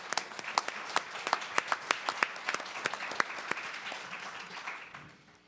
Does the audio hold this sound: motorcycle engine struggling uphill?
no